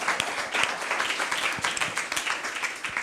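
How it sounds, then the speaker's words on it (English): An audience at a journalism conference panel on health and medicine applauds the panelists, a lively steady patter of many claps with some sharp nearby hand strikes punctuating the fairly loud wash. "So a big round of applause"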